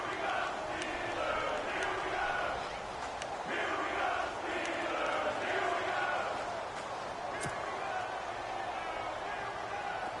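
Continuous roar of a stadium crowd in an American football video game, a dense, steady cheer swelling as a big third down approaches, with faint commentary voices mixed underneath.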